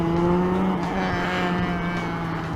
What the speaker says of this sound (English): Yep, that's an exhaust failure.